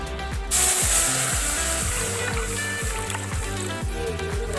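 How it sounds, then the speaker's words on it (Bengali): Water hits a hot kadhai with a sudden loud hiss and steady sizzle that holds for several seconds over soft background music. "এবারে আমি কড়াইতে অল্প পরিমাণে জল দিয়ে দেব।"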